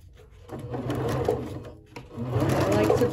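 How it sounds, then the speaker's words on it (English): Sewing machine running steadily while stitching a quilt seam, a continuous mechanical whir with brief pauses and a slowdown near the middle, close and fairly loud, no talking. "we're gonna sew"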